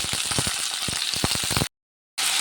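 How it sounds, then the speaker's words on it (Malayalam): Eggplant pieces frying in hot oil with dried red chilli, a loud, steady close sizzle with crackling pops, briefly cut to silence before resuming. "അതിന് ശേഷം നമ്മൾ ഇടേണ്ടത് ഈ വഴുതനങ്ങ എണ്ണയിലേക്ക് ഇടുക."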